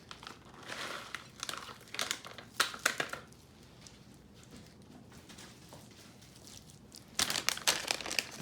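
Bacon bits poured from a crinkly plastic bag into a dish of loaded tater tots, bursts of close crackling and rustling with a quieter gap in the middle, then a final loud crinkle, no voices.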